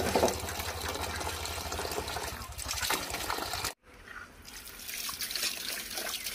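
Freshly picked mangoes are rinsed under running water, a steady close splashing and trickling that cuts out briefly midway and then resumes.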